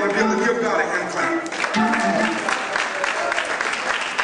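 A church congregation on its feet claps hands together, a steady wash of applause running throughout, with voices and murmuring mixed in underneath.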